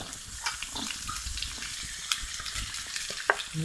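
Sliced onion sautés in a pan for Manchurian. A faint, steady sizzle is broken by soft stirring scrapes and light clicks.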